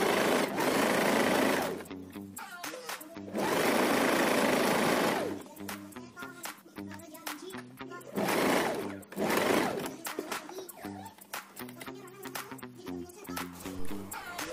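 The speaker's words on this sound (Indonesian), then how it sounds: "ini dijahit kelim, kita jahitnya keliling ya seperti yang tadi." Sewing machine running close, stitching the hem around an instant tie-back hijab in several bursts of fast, even whirring, with pauses between runs where someone speaks.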